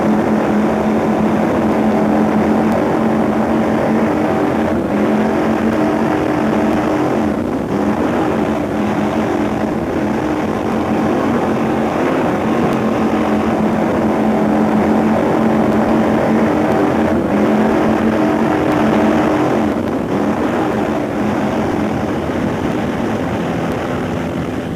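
A racing catamaran powerboat roars through the 1988 Needles Trophy in the British Powerboat Championship, a loud, unbroken engine drone with rough wash and wind noise throughout.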